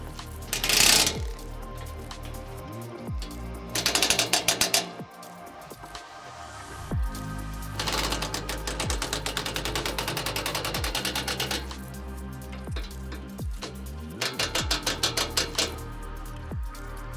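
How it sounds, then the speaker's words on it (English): A ratchet tightens bolts underneath a 2023 Ford Ranger Wildtrak, giving several bursts of rapid clicking separated by pauses, close by and moderately loud. "Finally, I'm just going to tighten the 15s up underneath."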